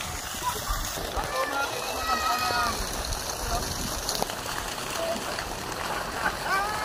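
Water overflowing toward a river rushes and splashes continuously, a steady nearby flow spilling over, with a voice talking over it.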